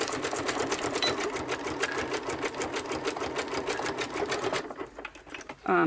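Sewing machine stitching a tag onto a paper junk-journal card: a steady rapid run of needle strokes for about five seconds, loud and close, then it stops with a short rustle of handling at the end.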